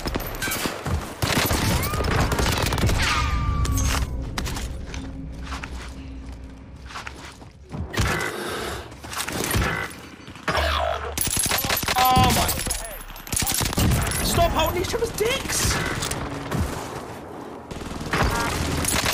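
Video game gunfight with heavy gunfire: rapid bursts and shots crackle through most of the stretch, mixed with footsteps and game effects, dense and loud throughout with a brief lull midway.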